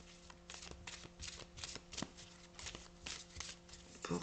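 Tarot cards shuffled by hand in a quiet room, a steady run of soft riffling flicks and slaps with a card drawn near the end, faint and close with no talking.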